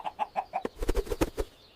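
Short run of clucks from a chicken in the Minecraft video game, about eight quick evenly spaced calls, close and clear with no talk.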